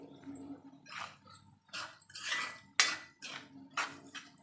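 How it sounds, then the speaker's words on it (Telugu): Repeated scraping and clinking of a utensil stirring a tempering with salt in a pan, in uneven bursts, with a light sizzle underneath. "ఇలా కలుపుతూ ఫ్రై చేయాలండి"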